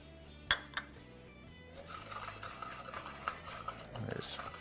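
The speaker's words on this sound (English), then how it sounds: "Whisk the rub around, get it all mixed together." A whisk scrapes steadily around a bowl, mixing a spice rub of kosher salt, fresh cracked pepper and cayenne for smoked baby back ribs. The scratchy stirring runs continuously and close, after a few sharp clinks at the start.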